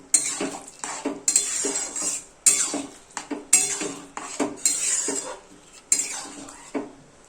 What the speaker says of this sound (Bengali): রাখা মটরটা এবার ওর মধ্যে দিয়ে ভালো করে মশলার সাথে কষাতে হবে।